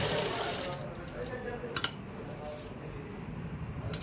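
A sewing machine runs steadily, stitching along the outer edge of a shirt collar, a close, even mechanical whir with a few brief clicks.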